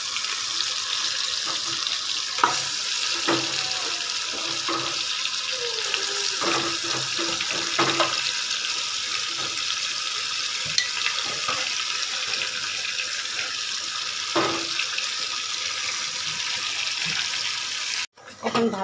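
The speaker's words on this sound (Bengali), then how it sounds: "এখন ভালোভাবে নেড়ে চেড়ে ভাজবো, অনেকক্ষণ টাইম ধরে ভাজবো আমি" Meat fries in a pan with browned onions, a dense steady sizzle close by, broken by scattered clicks and scrapes of stirring, with no speech.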